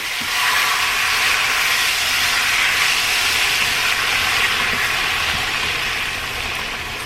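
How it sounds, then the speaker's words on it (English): Tomatoes and all their juices go into a hot pan, producing a loud, even hiss of steam that holds steady for several seconds. "So we're going to add the tomatoes in and all of their juices."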